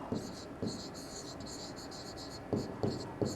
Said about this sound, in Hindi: तो लिखता हूं यहां पे